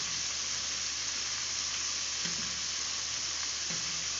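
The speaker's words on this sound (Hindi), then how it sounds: "ये बहुत अच्छा फ्राई हो रहा है" KFC-style chicken pieces frying in hot oil give a dense, continuous close-up sizzle, steady and even in loudness throughout, with no voices and only faint stirring touches.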